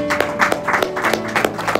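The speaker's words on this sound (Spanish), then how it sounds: "demos un fuerte aplauso al Señor" A church congregation clapping together in a loud, rhythmic burst of applause, close and steady for a couple of seconds.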